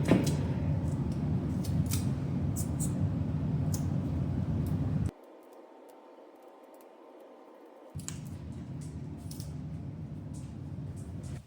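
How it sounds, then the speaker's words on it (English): Double-sided tape being pulled and pressed onto the wooden top of a dresser turned into a workbench, close crackling and rubbing sounds in two bursts separated by a few seconds of near silence. "Then I'm going to start placing this double-sided tape."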